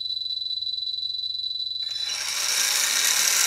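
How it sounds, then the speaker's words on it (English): The electric motor of an ARX RC motorcycle whirs as a steady high whine, then surges into a louder broadband rush about halfway through, close and with no talking. "Now, I'm going to set the trim up on the motor until it starts to run."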